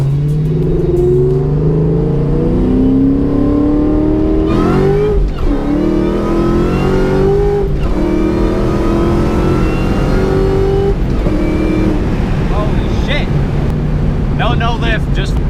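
Race car engine revving hard and accelerating through a run of quick no-lift gear shifts under a timing-cut system, each shift a brief dip before the pitch climbs again, loud and close throughout.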